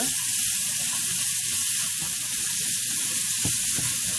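Chopped bacon sizzles in a pan, a constant close hiss of frying fat with a couple of brief knocks near the end, no talking.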